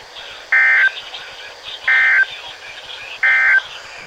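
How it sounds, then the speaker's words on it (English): NOAA weather radio weekly test from transmitter WNG698 sounds three loud, identical EAS alert tone bursts, evenly spaced with quieter static-laden gaps between them. "I almost missed this EAS, but there's the weekly test off of WNG698"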